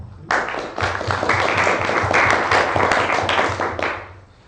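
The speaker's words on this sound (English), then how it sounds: "So please, a big applause for Nicolas Courtois." Audience at a talk on Bitcoin hash rate attacks breaking into applause for the speaker, a short burst of close, distinct hand claps from a modest crowd that starts abruptly and fades out after a few seconds.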